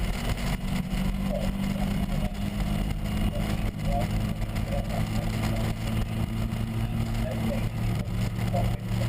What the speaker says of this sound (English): Hutchinson still really putting that car in exactly the right place to frustrate Lee Bristow